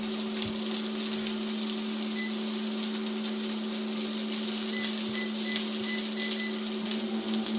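Chipolata sausages cook on high heat in an air fryer on a silicone baking tray, giving a steady fan whir and hum with a faint sizzle underneath and a few soft high beeps near the end.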